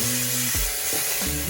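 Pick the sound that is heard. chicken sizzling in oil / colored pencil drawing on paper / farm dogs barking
chicken sizzling in oil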